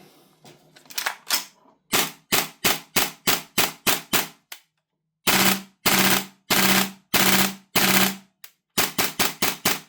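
Tokyo Marui MP7 airsoft gun dry-firing with no BBs loaded, running on an HPA adapter at 80 psi, sounds as loud sharp bursts of rapid full-auto cracks, separated by short pauses, close and clear with no talking.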